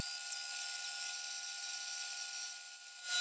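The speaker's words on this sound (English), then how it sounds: "that'll allow you to have both hands on your circular saw to make the cut a little bit safer" A circular saw cuts through a wood board in one steady, loud, continuous whine that holds for about three seconds and then stops abruptly, with no talking.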